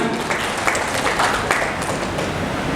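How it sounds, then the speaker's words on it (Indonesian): An audience at a tourism discussion forum about Lake Toba claps steadily, a dense wash of applause with slight swells, no voices on top. "Tepuk tangan kita untuk Pak Profesor Binari."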